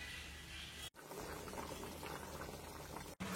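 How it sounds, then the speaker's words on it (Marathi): Harbhara usal, a Maharashtrian green chickpea curry, boiling in a pot, giving a soft continuous bubbling simmer, close but quiet, with two brief cut-outs and no talk. "आणि उकळी बी आलेली मस्त आता."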